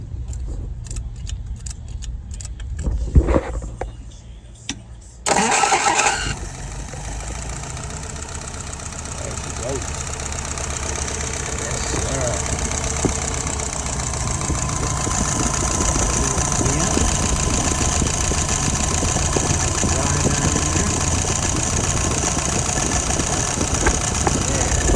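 Keys jangle and clicks sound before an engine cranks and fires, then settles into a steady, even idle that continues close and unbroken for the rest of the span.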